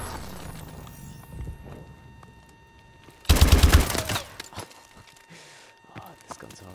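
A burst of rapid gunfire from a weapon in a shooter game's free-for-all match, loud and sharp for about half a second, followed by quieter scattered shots and game sounds, with a voice speaking early on.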